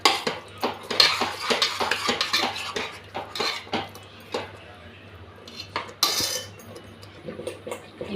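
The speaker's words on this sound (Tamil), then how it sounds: "நல்லா மிக்ஸ் பண்ணுங்கள்." A spoon scraping and clanking in a pot while curd is mixed into chicken biryani masala, rapid irregular metallic strokes close up, with brief quiet gaps and no talking.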